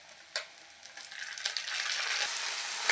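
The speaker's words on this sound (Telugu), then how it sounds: "ఇదిగోండి తాలింపు బాగా వేగిపోయింది కదా" A tempering of spices sizzles and crackles in a hot pan, quiet at first and then building to a steady, bright frying hiss, with a brief clatter near the start.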